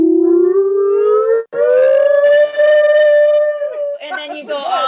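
A voice imitates a tsunami warning siren, a sustained rising wail that climbs from low, breaks briefly, holds a steady high tone, then wavers and drops near the end, loud and close with no other sound.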